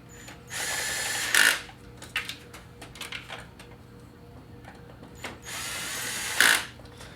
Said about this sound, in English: my torque set relatively low, so that's why you hear it hitting torque constantly